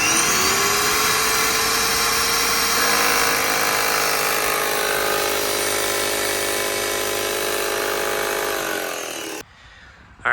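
An airless paint sprayer pump primes with paint, running as a loud, steady mechanical whine and buzz for about nine seconds before it cuts off sharply.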